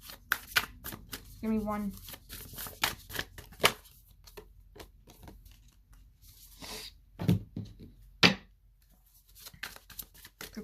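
Tarot cards being shuffled by hand, giving repeated crisp riffling and flicking bursts in irregular clusters, close up, with a person talking in between.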